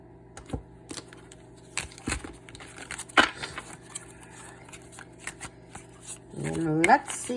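Cards of a Paulina Cassidy tarot deck being handled and cut, giving scattered close crisp snaps and slaps with a brief louder riffle near the end, while a voice talks softly in places.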